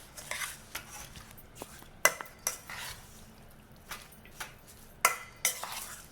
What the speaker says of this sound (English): Then we're going to mix all these ingredients.